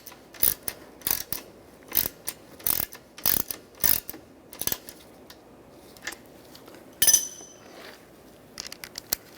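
A hand ratchet tightens the A/C condenser bolts on a 2011–2015 Chevy Cruze, giving bursts of quick, crisp clicking in a steady rhythm with short pauses between strokes, close up and clear.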